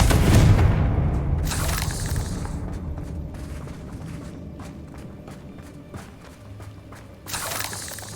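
Confringo blasting spell in Hogwarts Legacy, a heavy booming explosion at the start that rolls into a sustained rumble with scattered crackles, then a second blast burst near the end.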